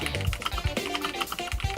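Keys clack on a homemade keyboard built from Lego bricks, a quick irregular run of close, crisp plastic taps, loud and alone with no talk.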